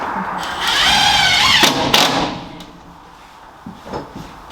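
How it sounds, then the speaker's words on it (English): A power drill driving a screw into a joist whirs briefly with a rising, straining whine, followed by clicks and handling knocks, with voices speaking nearby. "you should be able to start the drill with like"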